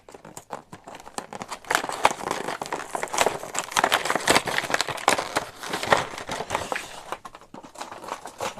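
Matchbox 2022 MBX Off Road 5-pack box being opened, a steady run of close crinkling, crackling and tearing of cardboard and plastic packaging for several seconds with no talk.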